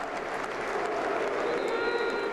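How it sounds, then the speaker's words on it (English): Stadium crowd at a Chelsea football match, a dense, steady roar of applause and voices with chanting of Roman Abramovich's name blended in, loud and continuous throughout. "applause for Ukraine, but very quickly it is broken into by Chelsea fans chanting Roman Abramovich's name."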